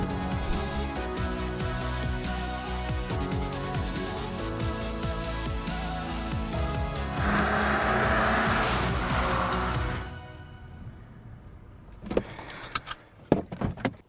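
A front-wheel-drive hot hatch revs hard and shifts through gears at speed around a race track, tires briefly squealing, then the roar fades away into scattered clunks and knocks.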